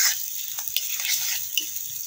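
Chopped large onions frying in oil in a pan for a Bengali-style fish curry, giving a steady close hiss with a few soft crackles and stirring clicks, no voices.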